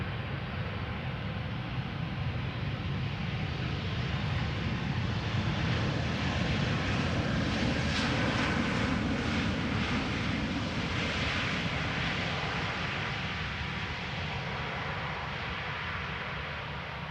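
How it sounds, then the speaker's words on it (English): A Vueling Airbus A320 arriving from Barcelona at Amsterdam Schiphol, its jet engines a loud, steady roar that swells toward the middle as it passes fairly close, then eases slightly, alone without talk. "this is Vueling flight 8309, Airbus A320."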